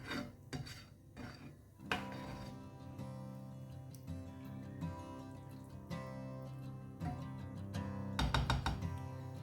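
A ladle stirs and knocks inside a pot of Goan clam pulao with added water, giving repeated close clanks, scrapes and taps of metal on the pot, with a busier burst of clatter near the end and no talking.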